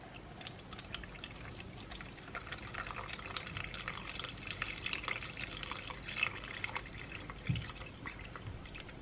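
Tap water trickles and pours into a container for soap making, a soft, uneven splashing stream that is fairly quiet and close, with no speech.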